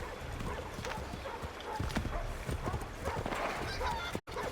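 Horse hooves clip-clop in a rapid, uneven gallop in the video game Assassin's Creed III, set among game ambience with brief distant animal sounds.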